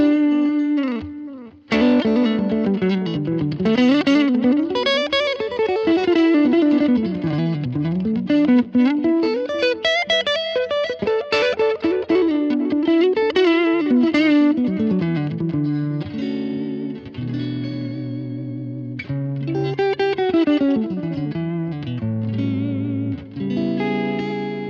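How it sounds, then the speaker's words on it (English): Clean electric guitar played through a Line 6 Helix with light reverb, delay, high and low cut and a touch of compression, a continuous, loud melodic passage of sliding notes and chords ringing out alone. "That's that same sound with a little bit of reverb, a little bit of delay, the high and low cut, and a touch of compression"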